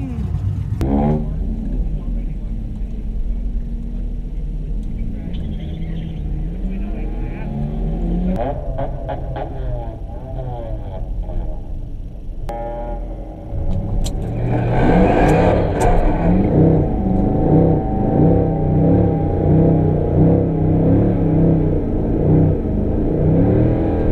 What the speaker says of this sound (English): This is an E55 AMG for anyone who doesn't know